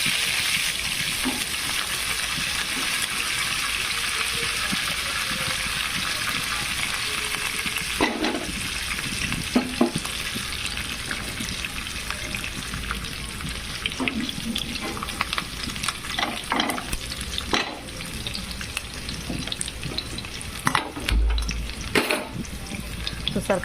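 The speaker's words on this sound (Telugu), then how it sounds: "ఈ ఆవాలు, జీలకర్ర, శనగపప్పు బాగా వేగాలండి." Mustard seeds, cumin, chana dal, garlic and curry leaves frying in oil for a curry, a loud continuous sizzle with occasional stirring scrapes and clinks against the pan.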